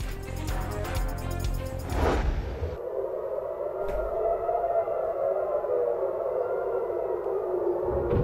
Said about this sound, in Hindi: तल अबीब, मकबूजा बैतुल मक़दस और शेरोन में सायरन बज उठे।